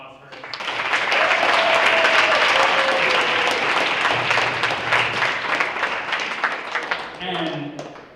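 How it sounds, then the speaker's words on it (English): Applause swells from an audience at a high school marching band awards ceremony, holding strong for several seconds and then tapering off as a voice begins speaking at the end. "So give them a round of applause first."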